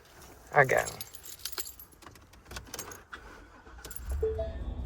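Keys jangle in a short bright burst near a car, followed by low rustling and a faint vehicle rumble building toward the end, with a person speaking nearby.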